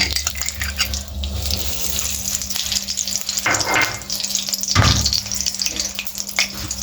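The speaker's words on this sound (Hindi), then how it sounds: "हम जो डाल रहे हैं इसमें सबसे पहले घी" Ghee heating in a pan on a lit stove, a steady crackling sizzle running throughout with a few clinks of a utensil against the pan.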